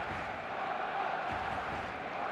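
Stadium crowd in the eFootball 2026 football game before a Barcelona vs Oviedo match: a dense, steady roar of many voices, constant and fairly loud with no breaks.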